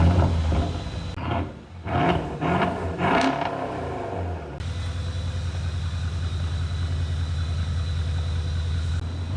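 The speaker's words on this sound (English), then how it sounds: "All right, the car's coming down." A car lift lowering a Mercedes S-Class fitted with a Brabus kit in a workshop, heard as a steady mechanical whir and hum after a few irregular clunks and knocks at the start.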